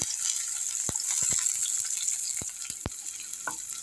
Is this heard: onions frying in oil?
yes